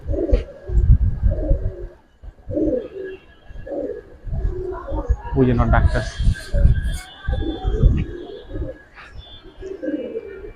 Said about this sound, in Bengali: আমার দুইটাই কিন্তু অনেক বড় সাইজের কবুতর